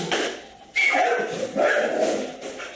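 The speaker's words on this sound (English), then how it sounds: "So big bad Tyson scared Charlotte. That's what dogs do" A dog at a training boot camp yips and whimpers in short, high, nasal bursts close by, with a few sharp yelps mixed in.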